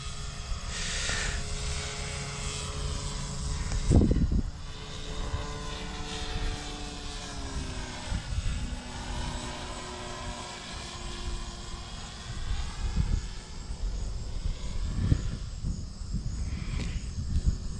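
A Carbon Cub S2 light propeller aircraft takes off into the wind, its engine droning steadily and loudly throughout with a rising pitch shift midway as it lifts off after a very short roll.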